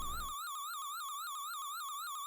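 A wavering electronic alarm siren from Mega Man 5 warbles in a fast, repeating up-and-down chiptune pattern, loud and alone after a brief burst of low noise.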